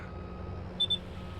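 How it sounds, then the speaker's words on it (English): A machine in Farming Simulator 22 gives two short, quiet high beeps in quick succession over a low, steady engine hum. "Yes, it's beeping."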